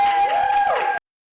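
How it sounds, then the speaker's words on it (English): A studio audience at a cooking reunion show briefly cheers and applauds for a chef's wife, a dense burst of crowd noise that cuts off abruptly after about a second. "Let's give a round of applause for her, please, everyone."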